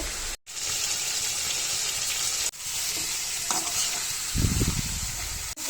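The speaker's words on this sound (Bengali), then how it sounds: "এখন বেগুনগুলো দিয়ে ভালোভাবে কষিয়ে নিব" Eggplant pieces stir-fried hard with spices for a boal fish curry give a steady, loud sizzle throughout, broken by brief scraping stirs and a short dropout near the start, with a rougher burst of stirring toward the end.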